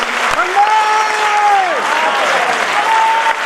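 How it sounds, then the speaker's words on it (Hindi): A crowd at a live stage show claps steadily throughout, dense and sustained applause with a faint tonal whine running under it. "तालियां बजाइए।"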